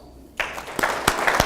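Audience applause at a city's State of the City address, starting abruptly after a quiet moment and swelling into a full burst of many hands clapping.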